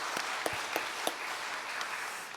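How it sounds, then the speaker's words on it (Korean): A church congregation at a dawn prayer service applauds to encourage the women's deaconess choir after their hymn. The applause is soft and distant, a steady patter with a few sharper claps standing out. "우리 권사회 여름 내내 또 수고하실 텐데 격려의 박수를 한 번 더 보내줍니다"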